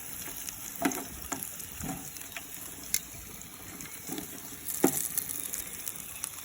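Baked potatoes and onions sizzle and fry in a hot pan beside a spit roast of pork, a steady close crackle with occasional sharper pops and stirring knocks.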